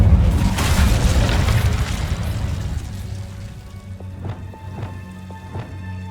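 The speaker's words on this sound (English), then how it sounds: "Incendio!" In the Hogwarts Legacy video game, an Incendio fire spell bursts out as a loud whooshing, crackling blast of flame that fades after a few seconds into a lower rumble with faint chiming tones.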